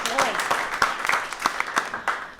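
A round of applause from a small audience at a live Skewb company tour event, scattered sharp claps over a noisy room with a voice briefly heard at the start.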